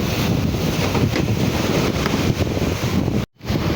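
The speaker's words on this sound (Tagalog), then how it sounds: "lumakas na po ang hangin" Strong wind buffets the microphone in a constant loud roar at sea near a service boat, with waves faintly beneath, briefly cutting out near the end.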